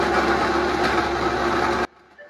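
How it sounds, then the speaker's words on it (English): A Vitamix blender whirs steadily and loudly at full speed, blending chopped ABC smoothie ingredients with water, then cuts off abruptly, leaving near silence. "Then blend it."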